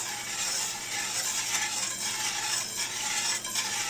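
A spoon stirs sugar and spices into apple pie filling in a pot, giving a continuous soft scraping and swishing that stays steady and close with slight rhythmic pulses and no voices.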